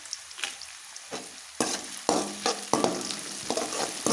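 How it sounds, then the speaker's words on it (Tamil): Onion and dried red chilies sautéing in a pan for a hotel-style duck curry, with a close, steady sizzle and frying hiss broken by several scraping stirs of a spoon against the pan. "ஒரு பெரிய வெங்காயம் போட்டு நல்லா வணக்கி விடுங்க."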